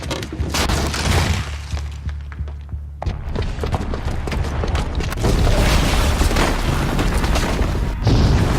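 A bomb booby trap detonates in Horizon Zero Dawn: a heavy, loud boom followed by shattering debris and a sustained rumbling blast that briefly cuts out, then swells again and continues to the end.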